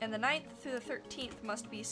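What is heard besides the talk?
No distinct noise like a dog, phone or traffic.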